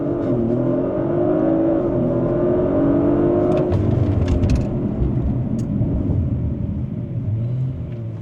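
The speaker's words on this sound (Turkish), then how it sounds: "launch control pro activated" An Audi RS5 launches under launch control, its engine roaring loud and steady as it accelerates hard, the rising pitch sweeping through shifts with a deep rumble throughout and no talk.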